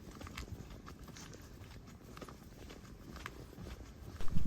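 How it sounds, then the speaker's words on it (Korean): Footsteps of a person walking along a very quiet residential neighborhood street in Osaka, Japan: a steady series of soft, close steps on pavement, with faint background ambience and a louder bump at the end. "너무 조용해서 제가 걷는 소리가 크게 들립니다."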